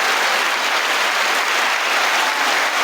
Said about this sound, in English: So we're just here listening to applause